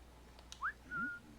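Two-note whistle from a character in Assassin's Creed IV: Black Flag: a short rising tone then a longer steady one, sharp and clear over a quiet hissing game background, with no talk.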